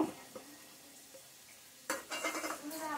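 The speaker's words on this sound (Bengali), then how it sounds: "কাঁচা লঙ্কাটা দিয়ে সর্ষে বাটা দিয়ে এটাকে ভালো করে মেখে নেব।" Hilsa fish pieces are mixed by hand with green chilli and mustard paste, quiet at first and then a louder burst of wet, squishing mixing sounds in the last second.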